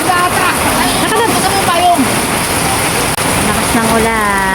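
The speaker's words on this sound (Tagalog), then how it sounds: "Lakas ng ulan." Heavy rain pours down steadily, a loud, continuous wash of water that stays dense throughout with no pauses.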